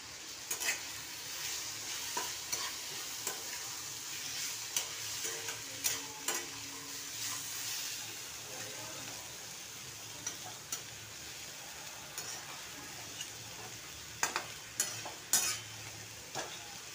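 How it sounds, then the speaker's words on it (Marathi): Pods tossed with salt while roasting in a pan give a soft, low sizzle with occasional scraping and clicking as they are stirred, close but quiet, with sharper knocks near the end and no talking. "तरी ह्या शेंगा चांगल्या भाजून घ्यायच्या."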